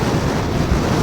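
Strong wind roars steadily and loudly against the microphone on a fast scooter ride along a highway, a constant rushing buffet with no speech.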